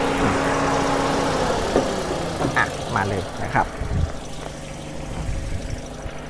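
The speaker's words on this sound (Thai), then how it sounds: "ผมติดเครื่องเปิดแอร์เรียบร้อยแล้วนะฮะ ก็ เครื่องยนต์เนี่ยเดินนิ่งเดินสมูทเลยนะครับ" A Toyota Yaris Ativ 1.2S+ (2019) with its 1.2 engine idling smoothly and the air conditioning running: a steady, even hum throughout, with someone speaking briefly over it near the middle.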